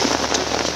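Heavy monsoon rain in Mangalore, near rice paddy fields: a dense, loud, continuous hiss of rain pouring onto surfaces close by, with no voices over it.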